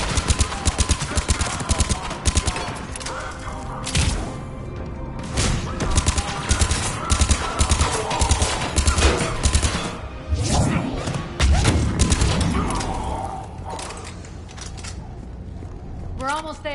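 Bursts of turret and weapon fire with heavy thuds rattle through a firefight in Mass Effect Legendary Edition, dense and loud with rapid repeated shots, while voices shout over the action.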